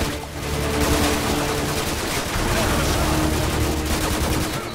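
Machine gun fire in the video game Modern Warfare, a continuous dense roar of automatic shots blended into loud battle noise, steady throughout the short stretch.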